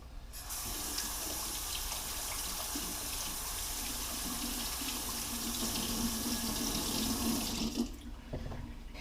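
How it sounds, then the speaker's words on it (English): Hands are washed under a running kitchen tap, a steady, close, continuous splash of water lasting several seconds before the flow is shut off. "I'm going to wash my hands."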